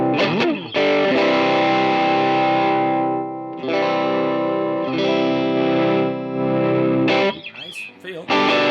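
An electric guitar plays through a Walrus Audio ACS1 pedal on its Vox amp simulation: thick, distorted chords ring out for long stretches, separated by short gaps and quick strums.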